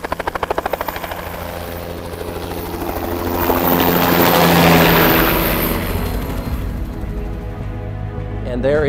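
A news helicopter, Chopper 4, flies overhead during a storm chase under a large wall cloud, its rotor thumping rhythmically, swelling loud as it passes close and then fading, with voices alongside.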